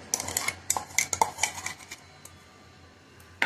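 A spoon clinks and scrapes repeatedly against a bowl while mint and coriander chutney is mixed, with quick irregular taps early on, a quieter stretch, and one last clink at the end.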